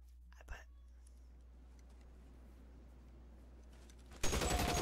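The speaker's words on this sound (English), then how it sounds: "Oh, come on. Tommy gun?" Tommy gun fire in L.A. Noire during a shootout with a bank-robber gang: a long quiet stretch with a faint thump early on, then a sudden loud, dense rapid burst erupts at the very end.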